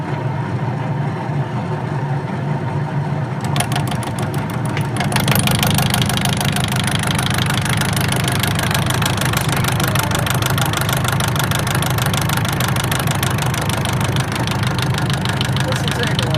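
A machine bores out the worn splines of a drive coupler hub. It gives a steady, loud mechanical drone with a harsh metallic chatter that starts a few seconds in and continues without a break to the end.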